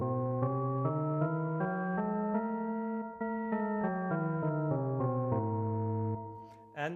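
A non-harmonic scale played on an XQueeze two-dimensional keyboard, with an odd, strange timbre; single sustained notes step one after another at an even pace, with a short pause midway, quiet and close and alone.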